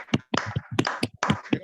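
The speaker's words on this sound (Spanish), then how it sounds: "pueden abrir todos los micrófonos para darle un fuerte aplauso a las chicas" Participants in an online meeting applaud with uneven, close-up hand claps that come in clustered bursts through a microphone, with brief gaps between.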